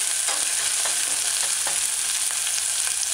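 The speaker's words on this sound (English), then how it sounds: "allow it to saute for a few seconds." Chopped scallion sautés in a pan for a vegan cabbage and carrot stew, a loud, even sizzle throughout with faint stirring scrapes and no voices.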